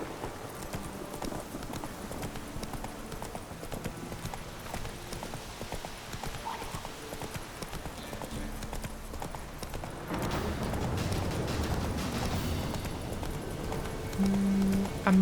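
Hooves of Roach, a horse in The Witcher 3, pound out a steady gallop throughout, growing louder and fuller partway through, with game music and ambience underneath.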